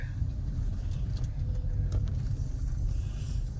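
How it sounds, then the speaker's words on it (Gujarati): Sunday road traffic on Airport Road hums as a steady, low engine rumble from passing cars, with faint higher clicks or chirps above it and no talk. "રવિવાર છે ને એટલે થોડુંક ટ્રાફિક રહે"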